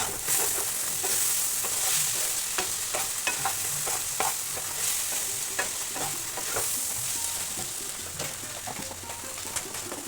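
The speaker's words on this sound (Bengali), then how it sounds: "এবার যে আলুটা ভাজা ছিল সেই আলুটা ভেন্ডি ফ্রাইয়ের সঙ্গে মিশিয়ে দিলাম" A spatula stirs fried potato into sizzling okra bhindi fry in a pan, with repeated scraping strokes over a continuous close, loud frying hiss.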